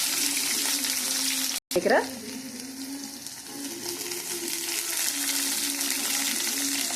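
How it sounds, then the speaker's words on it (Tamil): Curry leaves and onion go into hot oil for a kuzhambu, raising a loud burst of sizzling and spitting after a brief drop-out, then a steady frying hiss with a low hum beneath. "இப்போது நான் கருவேப்பிலை போட்டுக்கிறேன், ஆனியன் போட்டுக்கிறேன்."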